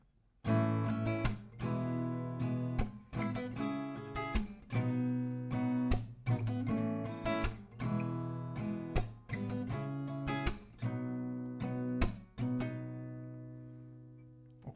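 Acoustic guitar strummed through the chord progression of a song, bright steady strums with accented downstrokes, played alone and close.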